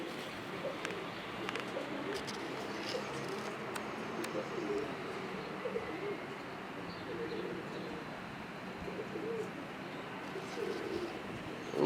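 Ustad Sakhi breed pigeons coo softly on a rooftop loft, faint and continuous under a steady wash of outdoor background noise.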